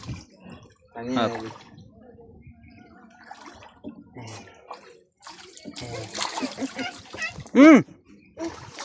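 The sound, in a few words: water splashing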